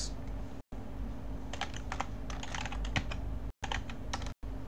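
Keystrokes on a computer keyboard as a command is entered on a Debian Jessie Linux machine, quiet irregular clusters of clicks with brief pauses, no voices.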